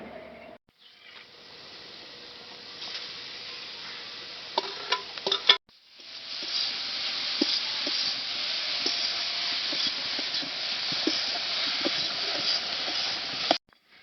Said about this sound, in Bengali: এবার ওই ঘিয়ের মধ্যে দিয়ে দিচ্ছি গাজর